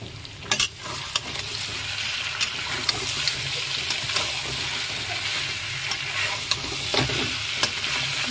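Mutton sizzling and being stirred in hot oil in a pot for mutton biryani at an outdoor family picnic, a steady close frying crackle with occasional scraping stirs and utensil knocks, no voices.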